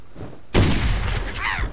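Gunfire in the survival video game Subsistence, a sudden close burst of shots with a rattling decay and a second flurry near the end, no voices.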